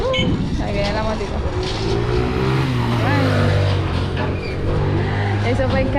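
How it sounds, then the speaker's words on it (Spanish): A small motorbike approaches, its engine note rising and shifting in steady tones, heard close amid wind and general outdoor noise while people talk nearby. "Ahí viene la motito."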